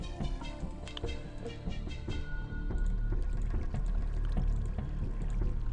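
Water pours into a barrel in the Minecraft TerraFirmaCraft mod, a continuous gurgling splash with small clinks, swelling slightly louder midway and heard alone without talk.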